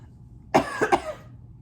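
A single sharp cough followed by a quick double cough, close and fairly loud, with quiet background between bursts.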